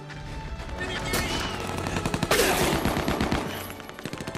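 A powerful gun firing rapid bursts, dense cracking shots layered over a loud crash and rumbling, close and forceful, with voices faintly mixed into the chaos.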